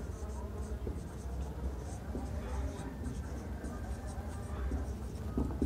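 Marker or chalk scratching steadily across a board during a Bengali-language class 11 physics lesson on hydrostatics, continuous and moderately close beneath a teacher's speech.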